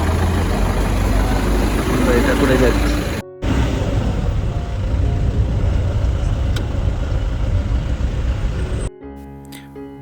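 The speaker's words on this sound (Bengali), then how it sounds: "শিলিগুড়ি থেকে আমরা রওনা দিয়েছি গাড়িতে করে পানবু ভিলেজের উদ্দেশ্যে" Car engine rumbling steadily from inside a vehicle on the road out of Siliguri, heading for Panbu village in the Kalimpong hills; loud continuous drone with a brief cut-out, a person speaking over it, then the engine noise drops near the end.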